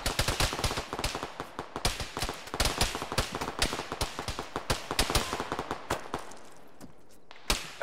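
Rapid gunfire in the military video game Arma during a ShackTac squad fight on a road, dense bursts of sharp shots cracking nearly continuously, thinning out near the end with a final isolated report.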